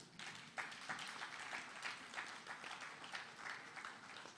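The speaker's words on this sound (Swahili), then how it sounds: "Mbona tuna uchoyo wa makofi?" Audience applause fills a concert crowd at the Mashujaa Love Concert 2022, a steady dense patter of many hands with small swells, moderately distant and continuous with no talking over it.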